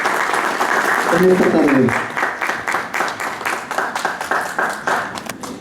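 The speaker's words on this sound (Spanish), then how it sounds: "Un aplauso para ustedes, por favor" An audience at a panel forum during a book fair claps steadily and warmly, the applause swelling early and then thinning into scattered claps as someone speaks over it.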